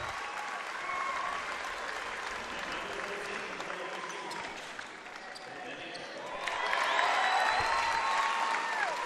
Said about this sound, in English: Keith Williams gets a big round of applause as he makes his way to the bench.